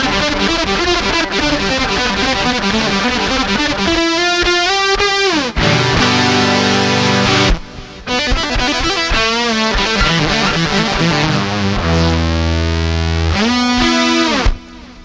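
A bright, buzzy analog guitar-synth tone from a Roland GR-300 races through quick note runs and sliding pitches, loud and continuous with a few short gaps, no voices.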